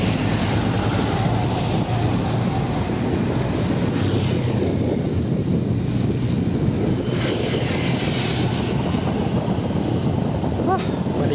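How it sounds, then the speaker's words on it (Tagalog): Wind blowing by the sea, a steady loud rushing roar with gusty buffeting against the microphone, continuous and close throughout. "Sarap kasi dito, mahangin."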